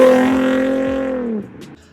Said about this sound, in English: It is such a helpful thing to make this exhaust sound better.